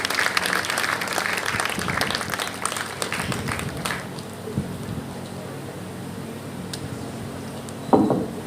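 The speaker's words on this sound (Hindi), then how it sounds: "दोनों हाथ उठा के एक बार ताली बजाएं" An audience at a kavi sammelan claps loudly and densely for about four seconds, then the applause thins into scattered claps with some murmuring in the hall.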